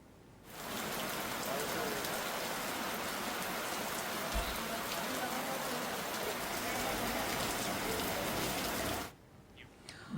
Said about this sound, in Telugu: భారీ వర్షం పడింది